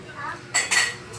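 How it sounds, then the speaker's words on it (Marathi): Metal pots and utensils are lifted out and clink together, two sharp bright clatters in quick succession and a lighter clink after, all close by. "सगळी भांडी काढलेली आहे"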